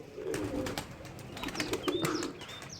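Pigeon at a loft settling on a perch after flying in, giving soft low coos with a few faint wing flutters and chirps nearby.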